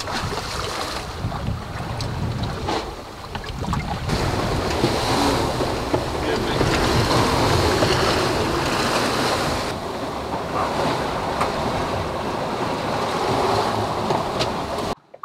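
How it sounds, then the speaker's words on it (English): A sailboat beats close hauled through waves in strong wind about 50 nautical miles off Broome, with steady loud broadband wash of water and wind buffeting the microphone throughout, hull slaps and gusts rising and falling. "we've been sailing close hauled for almost 10 or 11 hours in some pretty strong winds"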